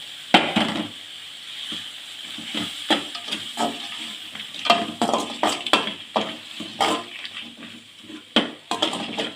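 Tamarind, onion and tomato for a spicy chutney are sautéed in a pan, with a soft sizzle under repeated scraping and stirring clatters of a spoon against the metal, close and irregular.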